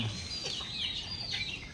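Backyard chickens cluck and chirp softly at close range, a few short calls and squawks overlapping over a quiet outdoor background.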